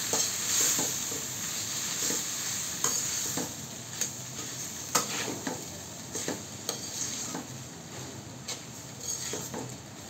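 Boiled noodles fry with a steady sizzle in a pan while being stirred, with repeated scraping and clinking strokes throughout, close and moderately loud, no voices.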